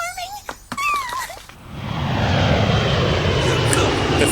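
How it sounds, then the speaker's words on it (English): A propeller airplane engine from an anime scene, rising into a loud, steady drone that takes over after a short stretch of voices and a melodic wail. "They just happened to have the plane standing by."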